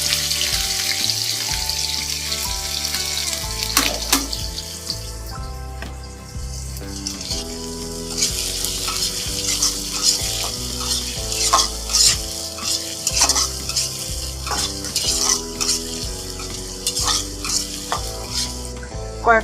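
Spice paste hitting hot ghee in a pan for North Bengal-style pulao, a steady close sizzle with repeated stirring scrapes and clinks running throughout, with no talking.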